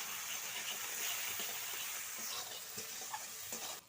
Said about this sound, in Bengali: খুব ভালো করে মশলার সঙ্গে মিশিয়ে নেব।